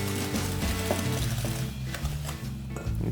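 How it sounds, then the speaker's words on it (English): Buttermilk pie batter being mixed with melted butter in a bowl without a whisk, giving busy clattering, ratcheting scrapes and knocks in quick irregular rhythm, close and loud with no talk. "We're just going to mix this together until it comes kind of smooth."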